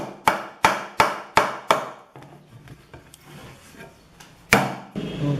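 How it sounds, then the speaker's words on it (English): Hammer banging stainless plates into moist wood while building a compost tumbler, with five sharp evenly spaced blows, then quieter rubbing and shuffling, then one more loud knock. "probably need a hammer to bang these in"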